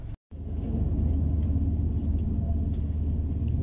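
A car pulls away on a road leaving Berlin, a steady low engine rumble that rises slightly and holds close and moderately loud, with no talking.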